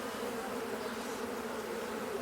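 Honey bees from a caught swarm hum in a steady, dense drone, many insects buzzing together close by at an even level with no voices.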